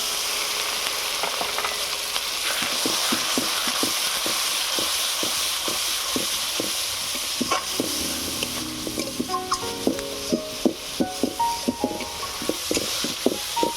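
Spices like Kashmiri chilli, cumin, coriander and garam masala frying for soyabean kosha with a splash of water, a steady hiss with rapid spoon scrapes, then louder clinks and sizzling pops near the pan.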